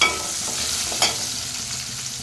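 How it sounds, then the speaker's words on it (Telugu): Thinly sliced onions dropped into hot oil and stirred, a dense close sizzle with a short scrape or stir partway through, no talking. "ఇప్పుడు అదే ఆయిల్లో సన్నగా కట్ చేసుకున్న ఆనియన్స్ అయితే వేసుకుంటున్నాను"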